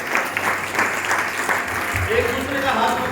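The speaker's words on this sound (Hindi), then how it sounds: "जोरदार ताली बजाओ।" A church congregation at a Christmas service claps loudly together, brisk and dense, with voices and a low hum running beneath the applause throughout.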